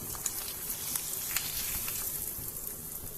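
A fried egg for savoury pancakes sizzles in a pan, a steady close hiss dotted with small pops and crackles, with no talking.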